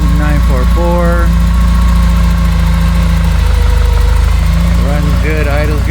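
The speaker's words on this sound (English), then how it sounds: "so we'll just let it sit here for a few minutes and idle up" A 1988 Porsche 944 race car engine idles loudly and steadily close by, a deep constant rumble with someone speaking over it.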